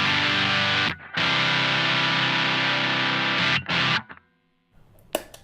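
Electric guitar played through an overdrive pedal, sustained gritty chords ringing loud and alone with a couple of brief breaks, then cutting off into quiet with a short picked noise at the end.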